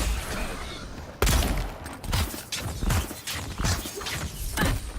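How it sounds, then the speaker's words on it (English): A magic missile spell cast in the video game Avowed, heard as a sharp burst followed by a quick run of crackling, percussive impacts that pulse roughly every half second. "Magic missile!"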